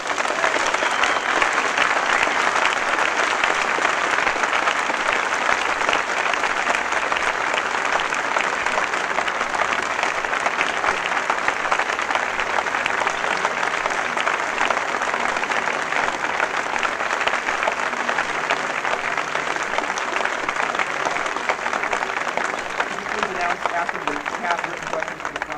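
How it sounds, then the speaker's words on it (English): A large outdoor crowd at Sproul Plaza, UC Berkeley, in 1967 gives long, dense, steady applause that sounds like a continuous roar of clapping throughout. "Thank you very kindly for your heartwarming applause."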